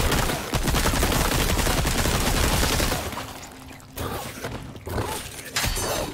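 Rapid pistol gunfire in Resident Evil 4 (Berserk mod), a dense burst of close, loud shots for about three seconds, then sparser shots and mechanical clatter with quieter gaps.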